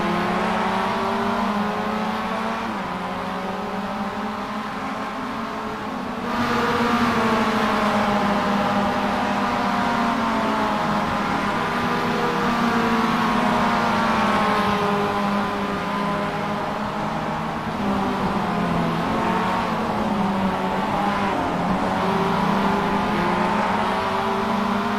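A Mazda MX5 production race car engine at Hockenheim in the iRacing sim drones steadily with rising and falling revs through the gears, loud and continuous, with a shift near the start and no talk.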